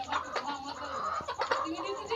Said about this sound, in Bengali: এটা হচ্ছে মোরগ